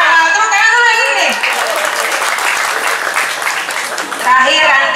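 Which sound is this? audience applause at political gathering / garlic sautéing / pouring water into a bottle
audience applause at political gathering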